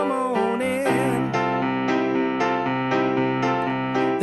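Piano playing the chorus of a song, a rhythmic run of repeated chords with strong sustained harmonics. Close and loud, with no talk.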